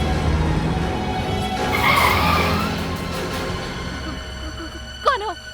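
A car skids hard on the road in a tense chase through a dangerous jungle, a loud sustained screech of tires swelling in the middle, with a sharp squeal near the end.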